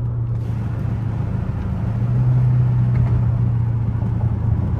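Hemi car engine rumbling late at night, a steady low idle drone with a slight swell in revs midway, close and continuous with no talking.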